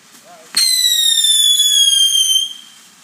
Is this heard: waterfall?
no